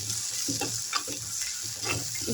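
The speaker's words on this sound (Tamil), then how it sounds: "அது கூட நம்ம கருவேப்பிலையை சேர்த்துக்கலாம். சேர்த்துட்டு இந்த மாதிரி கிளறி விடுங்க." Curry leaves fry and get stirred with onion and ginger-garlic paste in a pan for a Sri Lankan fish curry: close, busy sizzling with rhythmic scraping stir strokes, no talk.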